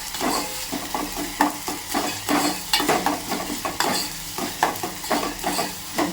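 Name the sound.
onion sautéing in oil with ginger garlic paste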